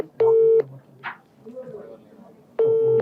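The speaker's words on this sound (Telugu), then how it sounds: "డైరెక్ట్ లైవ్ లో ఫోన్ చేసి ప్రయత్నం చేస్తున్నాం" A telephone call being placed live shows two long ringback tones separated by a pause, clear and steady, with faint talk between them.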